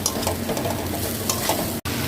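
Cauliflower and potatoes stir-fried with sugar in a pan, a steady close sizzle with scraping stirs throughout and a brief drop to silence near the end.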